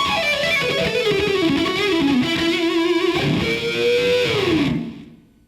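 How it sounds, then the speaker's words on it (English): A distorted electric guitar plays a smooth, sustained bluesy rock line with bending notes, loud and up close, then rings out and fades to silence near the end. "With some distortion, that can sound real smooth."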